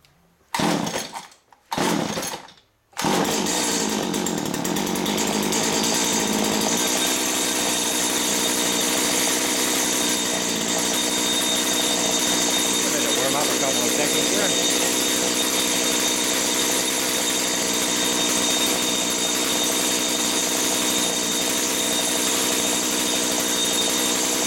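A small engine with a freshly rebuilt carburetor catches after a couple of short sputtering attempts. It then settles into a steady, loud, buzzing idle that runs on without pause.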